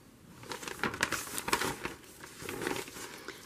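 Paper take-home bag from the Cheesecake Factory being handled, giving close, irregular crinkles and rustles with sharper crackles throughout and no talking.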